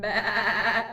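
A person imitates a sheep bleating: one close, sustained, wavering bleat lasting about a second, alone and fairly loud.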